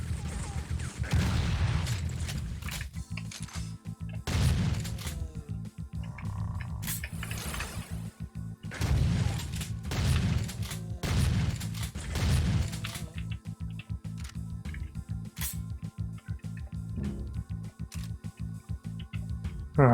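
Chaingunner enemies in the video game Doom fire in rapid bursts of chattering gunfire. Dense, loud volleys repeat across the stretch, mixed with other game sounds and crashes.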